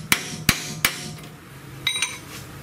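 Three sharp metallic strikes of a hammer on a long chisel against a 2007 GMC Sierra wheel hub ring out close by, followed by a pause and a softer pair of clinking taps.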